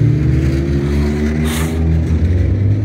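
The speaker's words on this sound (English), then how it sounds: "that's not a healthy sounding muffler or engine or anything" A car engine with a bad, unhealthy-sounding muffler revs nearby in Bernville, Pennsylvania, a loud rough throaty drone that rises and falls in pitch with a brief surge midway.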